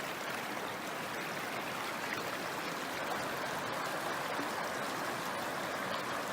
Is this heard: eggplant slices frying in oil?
no